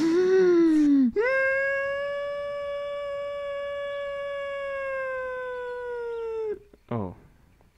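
A person's voice imitates a police siren during Unturned gameplay with a long, sustained wailing tone that rises, holds steady for about five seconds and slowly falls away. Brief vocal sounds come before and after it.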